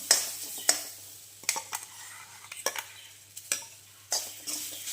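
Grated coconut filling stirred in a pan for steamed leaf-wrapped dumplings, with a soft sizzle and repeated scraping spoon strokes against the metal at an uneven rhythm, close and fairly quiet.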